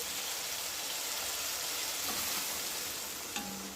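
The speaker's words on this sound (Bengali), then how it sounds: "মশলাটা কিন্তু আমি ভালো করে নেড়ে চেড়ে কষিয়ে নিয়েছি।" Spice paste for a loitta fish and lentil-fritter kofta curry stirred and fried in a pan: a steady, close sizzle throughout, with a light clink of the spoon near the end.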